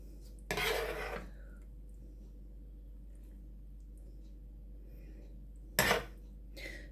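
Plates and cutlery clatter twice, brief and close, as hot sauce is dished up, with a fainter clink after the second burst and quiet kitchen hum in between.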